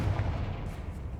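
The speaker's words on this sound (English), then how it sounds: "Confringo." Confringo blasting spell going off in a video game, a dense, booming explosion with a heavy low rumble that fills the whole short moment without a break.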